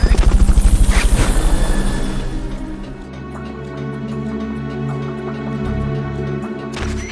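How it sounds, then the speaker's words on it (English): Helicopter during a Fulton recovery in the video game Metal Gear Solid: Peace Walker, a loud, close rotor chop pulsing rapidly at first, then easing into a steadier engine drone with scattered game effects. "Fulton recovery subject confirmed onboard helicopter."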